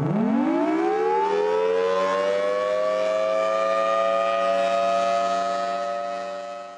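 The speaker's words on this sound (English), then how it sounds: "we can actually make the siren go around like this also" A rotating Thunderbolt civil defense siren at the Titan Missile Museum winds up from a low growl to a loud, sustained wail that holds steady before beginning to fade.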